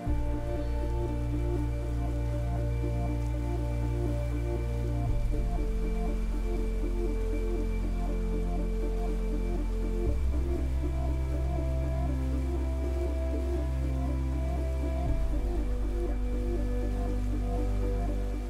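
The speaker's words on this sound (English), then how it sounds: "According to the presence of something or someone, we switch the rain off above them." Artificial rain pours steadily in the MoMA Rain Room installation, a dense, even hiss of water drops hitting the floor, with a low mechanical hum and faint tonal drones underneath, no voices.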